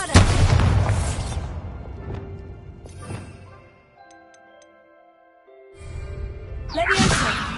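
A Bombarda spell explosion in Hogwarts Legacy: a loud, booming blast opens, quieter tonal game sounds and faint ticks follow, and another heavy rushing burst arrives near the end.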